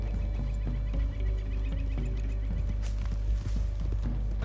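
Horse hooves clop steadily over a low rumbling background in the video game Red Dead Redemption 2, with a faint whinny and occasional bird or animal calls nearby.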